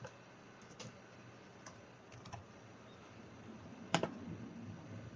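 Light keystrokes on a computer keyboard, a handful of soft scattered taps over quiet room noise, with one sharper, louder click near the end.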